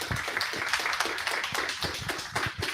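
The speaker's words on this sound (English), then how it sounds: "So if we could please give a round of applause for our speakers." Small audience at a software engineering talk giving the speakers a round of applause, a brief burst of close, uneven handclaps with individual claps distinct, moderately loud with no speech over it.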